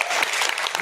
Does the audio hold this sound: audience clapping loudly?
yes